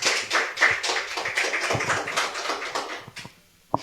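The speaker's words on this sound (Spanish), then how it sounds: "Entonces dele fuertes palmas a ese Dios poderoso." A church congregation claps, a scattered burst of many hands slapping fairly close, dense at first and thinning out toward the end before a final isolated clap.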